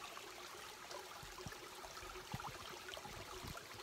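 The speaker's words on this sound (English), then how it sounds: "So basically we have a little stream here of good water." A small creek beside a trail shelter on the Appalachian Trail flows with a soft, steady trickling wash, faint and continuous with a few small splashes and no voices.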